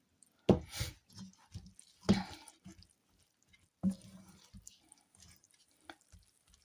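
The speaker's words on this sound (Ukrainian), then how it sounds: "додаємо 50 грам сушизи і гарно перемішуємо" Sushi rice is folded and stirred with sushi vinegar, giving a few soft, wet squishing strokes spaced a second or two apart, near and quiet, with faint smaller sticky dabs between them.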